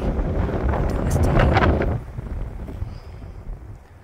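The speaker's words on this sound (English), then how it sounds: "It's windy, dusty." Strong wind in Phantom Canyon near Penrose, a dusty campsite, buffets the microphone in a loud, rumbling rush that eases off halfway through, leaving a lighter, steady gusting.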